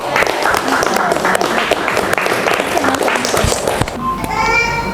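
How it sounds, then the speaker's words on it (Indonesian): A crowd applauds with dense, steady clapping and some children's voices mixed in, ending as the clapping fades into chatter. "tepuk tangan."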